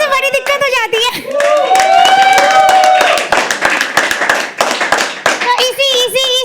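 An audience at a live poetry open mic at The Habitat claps in a loud, dense burst of applause that swells and fades, with a voice talking before and after it.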